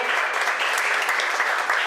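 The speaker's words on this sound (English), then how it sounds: "A round of applause for Laura." Audience applause for Laura, a junior at New Richmond High School, being honored as a student of the month; steady, dense clapping fills the room throughout without any speech over it.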